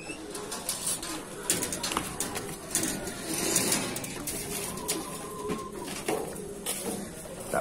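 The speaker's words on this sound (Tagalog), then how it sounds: "Kakarga na namin mga ibon dito sa training box." Racing pigeons cooing and shuffling as they are loaded into a training box, soft repeated coos mixed with wing flaps, clicks and scraping from the cage at close range.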